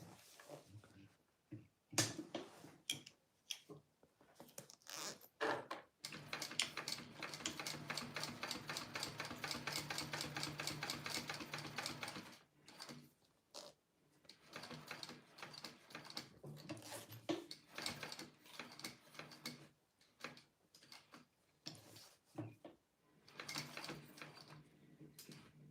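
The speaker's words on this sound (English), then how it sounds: "Now I'm going to sew around that zipper." A sewing machine stitches around a zipper on a fabric Serendipity wallet, a fast mechanical whirring run that stops and restarts in several bursts of varying length, fairly faint and steady, with no talking.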